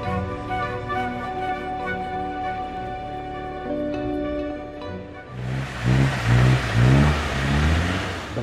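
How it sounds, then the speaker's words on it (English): A vehicle engine strains and revs while stuck in snow near the Line of Control in Kashmir, a steady harmonic drone that surges louder and rougher toward the end as the wheels spin. "vehicle has broken down in the snow and can't move ahead"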